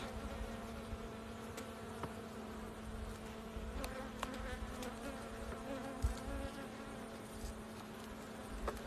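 Dense, steady buzzing of many bees close by, a continuous drone with occasional faint clicks and knocks.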